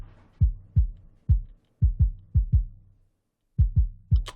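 An EQ-filtered low-end kick drum layer thumps out about ten short, deep booming hits in a steady groove, with a brief gap midway, heard alone and fairly loud.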